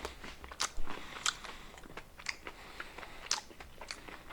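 Crunchy snack with a strong cheese coating being bitten and chewed up close, giving a series of crisp, irregular crunches with quieter chewing in between and no talking.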